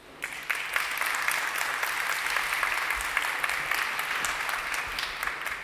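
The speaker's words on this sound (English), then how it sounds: "Huge applause to her" An audience applauds after a talk on thought leadership in engineering, with a sustained round of dense clapping that starts abruptly and stays steady, heard from within the room.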